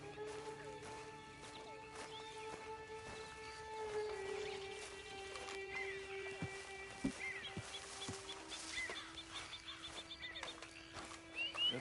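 A horse in the online mode of the video game Red Dead Redemption 2 whinnies and snorts against a steady bed of game ambience and music, with a few soft hoof-like knocks and no speech.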